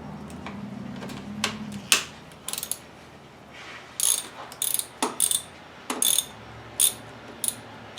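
A ratchet tightening the thermostat housing bolts on a 2005 Ford Explorer V6, short bursts of close, loud clicking pawl strokes separated by pauses, no talk.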